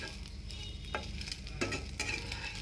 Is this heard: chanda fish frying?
yes